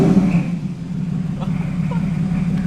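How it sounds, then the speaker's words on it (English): A Porsche fitted with Wish upgrades revs gently, a low engine drone with a slight high squeal riding on top, the rev rising briefly and settling. "Let me just give it like a little rev and see if it does it again."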